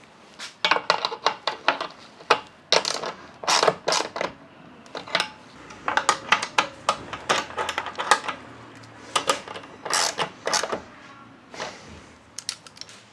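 Roof rack bolts on a 2020 Jeep Wrangler JL being tightened with a hand wrench and socket: repeated sharp metallic clicks and taps in quick bursts, close and fairly loud, with no talking.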